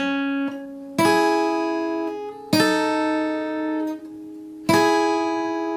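Three strummed guitar chords, each ringing out as a pair of notes sounding together, with pauses between and the strings decaying slowly, close and clear.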